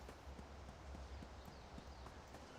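Hooves of a donkey in a video game clip-clop in a steady rapid rhythm, close and continuous, layered over a dense, noisy game soundscape with no talking.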